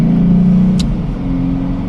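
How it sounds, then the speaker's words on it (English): A fast-moving truck passes on the road with a loud, steady engine rumble, close by and rising slightly before easing off, with a brief higher hiss midway. "It's just a fast-moving truck, I guess."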